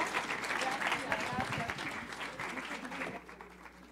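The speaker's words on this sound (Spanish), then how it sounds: "Un aplauso, por favor." An auditorium audience applauds after a university conference talk with a sustained, fairly close burst of clapping, mixed with some voices, that gradually thins toward the end.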